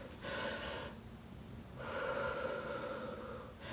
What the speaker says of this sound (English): If you're really, really nervous, take a deep breath.